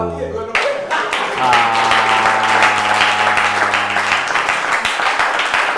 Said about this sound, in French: Par applaudissement, s'il vous plaît, je ne suis pas beau